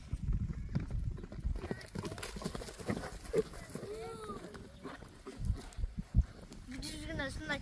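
Horse hooves clip-clop on the ground as a horse trained for ulak is led at a horse sale market, with irregular close hoof strikes under ongoing voices.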